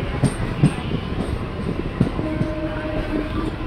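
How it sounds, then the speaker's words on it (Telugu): A goods train on the main line overtakes, its heavy rumble and rhythmic wheel clatter rolling steadily past close by, with a faint tonal whine partway through. "మెయిన్ లైన్లో ఉన్న గూడ్స్ ట్రైన్ అయితే ఓవర్టేక్ చేస్తుందండి మన ట్రైన్ వచ్చేసి ఇక్కడ"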